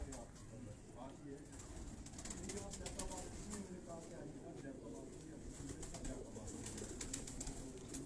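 A Kadi-breed pigeon from a Quetta fancier's loft gives soft cooing while held in the hand, low and steady under someone talking throughout.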